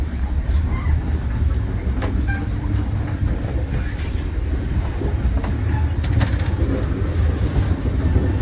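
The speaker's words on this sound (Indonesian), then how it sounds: "di sini kereta berjalan dengan pelan karena di sini dekat dengan pemukiman warga sekaligus jalurnya yang menikung" A KA Commuter Supas train rolls slowly through a curve near homes between Pasuruan and Surabaya, giving a steady, close, continuous rumble with faint wheel clatter throughout.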